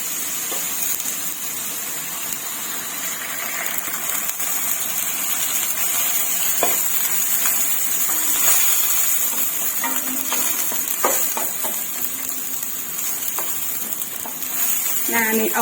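Mixed vegetables stir-fried with added water in a pan, a steady hissing sizzle throughout with occasional scraping stirs and light clatter, close and continuous.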